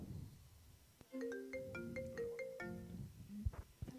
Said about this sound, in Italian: Un'altra telefonata.